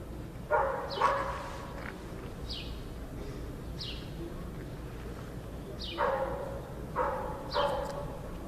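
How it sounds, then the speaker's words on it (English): A rescue dog at a building collapse site barks in short bursts, a pair of barks early and a cluster of three or four later, moderately distant over steady outdoor background noise. "The canine has been incessantly barking in that same spot, in that same area."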